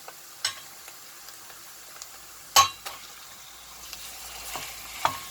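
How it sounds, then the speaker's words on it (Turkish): Minced meat and onions fry in a pan with a soft background sizzle, broken by scattered clinks and scrapes of a spoon stirring against the pan. "Şimdi kıymamızı koyup kavuracağız."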